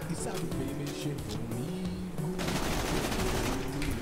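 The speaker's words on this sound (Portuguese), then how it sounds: "Você vê que a velocidade de tiro é impressionante." Rapid automatic fire from a shock-element gun in Borderlands: The Pre-Sequel, a dense rattling burst over game music and effects that grows louder and thicker in the second half.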